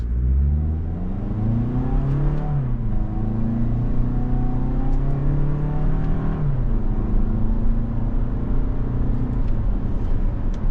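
Engine of a 2025 Toyota RAV4 XLE Premium accelerating in manual sport mode, revving up and dropping pitch at each gear change, with shifts clearly marked around two and six seconds; a steady, loud drone close by, no talk.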